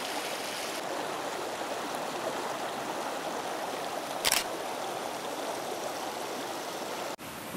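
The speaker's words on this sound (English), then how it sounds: "More river sounds." River flowing, a constant broadband rushing wash close by and at an even level, broken by a brief sharp click near the middle and a knock at the end.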